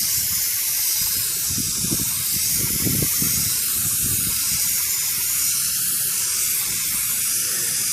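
Spray paint hissing onto a CJ2A-style grill fitted on a Jeep TJ, a loud continuous aerosol spray held close and steady throughout, with no talk.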